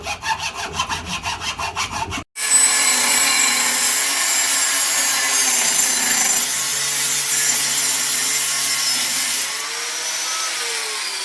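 Wood being sawn by hand into scales for the handle of a medieval-style folding knife, a brief rhythmic stroke burst followed by a long steady rasping cut, loud and close with no talk.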